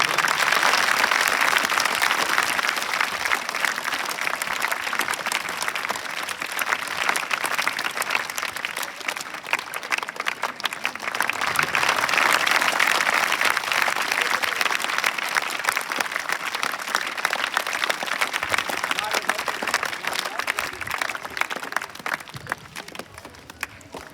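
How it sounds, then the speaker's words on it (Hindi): An audience applauds steadily at a farewell ceremony for a teacher at a government senior secondary school in Rojari, Gharsana, Rajasthan, a dense, sustained wash of clapping that swells and holds for the whole stretch. "तालियां धीमी हो गई।"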